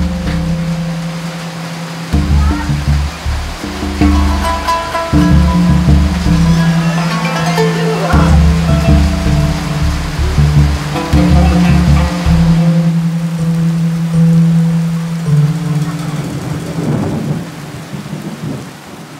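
Heavy tropical rainstorm over a stilt village of bamboo walls and palm-leaf roofs, with a steady dense roar of rain and deep rumbling thunder rolling through, loud and continuous with no talk.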